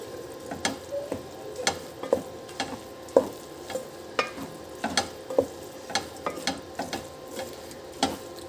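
Leftover rice with crushed red chili is stirred in a pan with a spoon, producing rhythmic scraping strokes about every half second over a gentle frying sizzle, with no voices.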